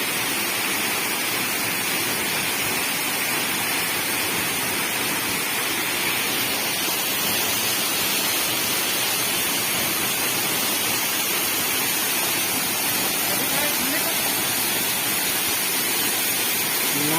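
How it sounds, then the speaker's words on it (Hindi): A beautiful waterfall at a little-known scenic spot in Madhya Pradesh or Chhattisgarh roars as a steady, dense wash of falling water, loud and unbroken from start to finish with no talk over it. "बहुत अच्छा सुंदर झरना है"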